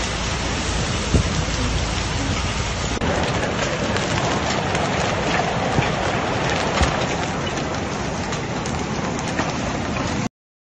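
A violent hail storm with destructive winds lashes Karachay-Cherkessia in Russia, making a dense, steady roar of pelting ice and gusting air that stays loud and unbroken from start to finish.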